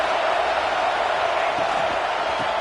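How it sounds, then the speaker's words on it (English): Steady, dense roar of a stadium crowd at a football game, loud and continuous throughout, with faint low thumps or voices beneath the wash of noise. "This crowd bringing the energy and noise early."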